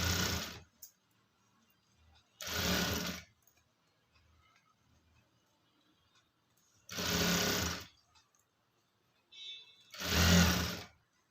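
Sewing machine stitching the placket of a blouse being made from a pattu silk saree, running in four loud separate bursts of a few seconds each, with quiet pauses between them and no talk.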